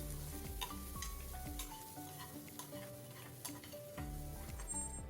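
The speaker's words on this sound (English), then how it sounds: "adding the masala powders and sauteing it for 20 to 30 seconds and adding the boiled potatoes and mixing it well" Boiled potatoes being sautéed with masala powders in a pan, a steady close sizzle with repeated stirring and scraping throughout, over a persistent low background hum.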